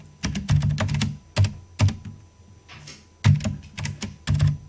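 Someone types HTML code on a computer keyboard in short, quick bursts of crisp, close keystrokes with brief pauses between them.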